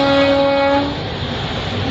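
Passenger train between Gandhidham and Palanpur: a loud horn blast sounds for about a second over the continuous rumble of the moving train, which carries on alone after the horn stops.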